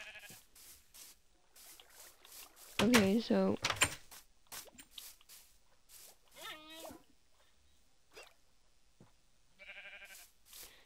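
Several short bleats from white sheep in the blocky survival game Minecraft, heard in spaced bursts, with a louder one early on and fainter ones later, while a person talks over them.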